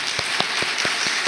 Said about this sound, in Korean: 우리 선생님들께 박수 한번